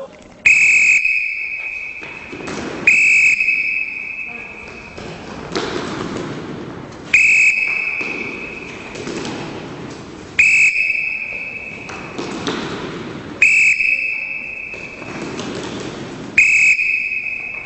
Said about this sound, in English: I'll blow the whistle when it's time to go.